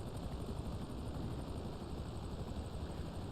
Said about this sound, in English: Brandon, move the helicopter, please.